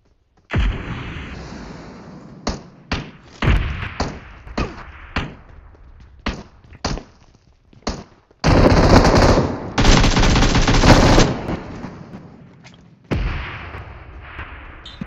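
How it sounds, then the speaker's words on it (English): Gunfire from several directions in a multiplayer shooter video game: sharp single shots cracking at irregular intervals, then a long loud sustained burst of automatic fire, a short pause and another burst. "We're getting shot at from multiple directions at this point."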